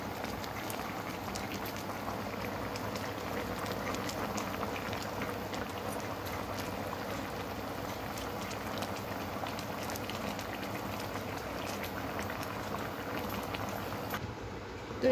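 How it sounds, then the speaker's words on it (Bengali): Potatoes and chicken boiling together in a pot for biryani make a steady, faint bubbling and gurgling that continues evenly throughout. "বন্ধুরা আলু আর চিকেন একসাথে সব কিছু দিয়ে এখন সেদ্ধ হচ্ছে।"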